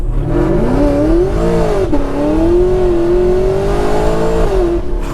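An 800 HP Camaro at full throttle climbing a hill, its engine roaring loud and close with a rising, wavering pitch and a brief dip mid-pull as it keeps accelerating.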